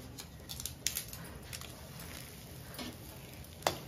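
Dried red chillies and bay leaves sizzling in hot oil for a homestyle Bengali fish curry, a steady soft frying hiss with a few crisp pops and spits, close by with no talk.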